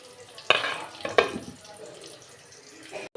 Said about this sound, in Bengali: এই যে আমি পেঁয়াজটা দিয়ে দিছি, তেলটা দিয়ে দিছি